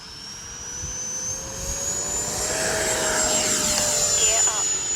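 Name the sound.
model jet afterburner in FMS flight simulator video game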